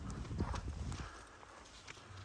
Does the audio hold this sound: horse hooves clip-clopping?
yes